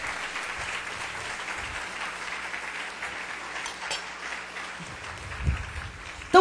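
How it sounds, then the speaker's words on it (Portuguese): A church congregation claps together during a worship service, sustained applause at moderate volume that thins slightly near the end before a brief louder burst. "Aplauda o Senhor, aplauda."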